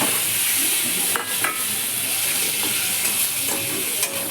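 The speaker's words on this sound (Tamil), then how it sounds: "வெங்காயமும் தக்காளியும் நல்லா வதங்கிட்டு இருக்கட்டும்." Onions and tomatoes sauté in a pan with a steady, close sizzle, broken by a few soft scrapes and stirs of a utensil.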